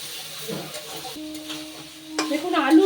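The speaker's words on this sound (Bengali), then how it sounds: "এবার সোয়াবিন দিয়ে আলু দিয়ে আর এই মশলার সাথে সময় কষিয়ে নেব।" Fried soybean chunks and potatoes are stirred with spices in a pan for an oil-free vegetarian dish, giving soft scraping and a growing sizzle near the end, close by.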